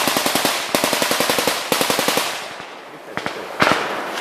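Rapid bursts of automatic gunfire crack loudly near a checkpoint in an eastern Ukraine war zone, with a few lone shots and a sharp report after a short lull.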